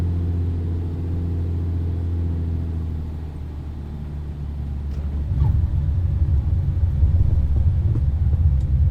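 A Bonanza's piston engine drones steadily in a flight simulator game, a smooth low hum that turns into a heavier, rougher rumble partway through and holds there to the end.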